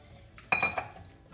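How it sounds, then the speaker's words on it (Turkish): A utensil stirs warm milk and yeast in a deep bowl, giving a brief clink and scrape against the bowl's side followed by a few softer stirring sounds, close and quiet, with no talking. "Şöyle biraz karıştıralım. Mayalar topaklanma yapmasın."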